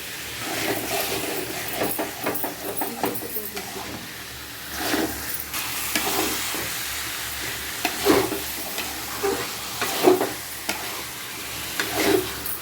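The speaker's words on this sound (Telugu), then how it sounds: "లైట్ ఊరికే కొద్దిగా అలా కలుపుకోవాలండి" Chicken curry gently stirred in a pan, with a continuous close sizzle and hiss broken by periodic scraping and stirring strokes.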